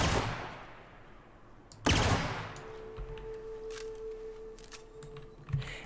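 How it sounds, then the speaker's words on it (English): Two loud handgun shots in The Outer Worlds, one at the start and one about two seconds in, each ringing off into a long decaying tail, with faint clicks afterward. "I want to fire off a few shots with it."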